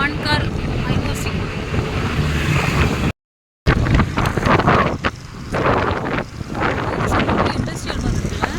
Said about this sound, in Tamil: என் ஃபோனே தள்ளி விடுது காற்று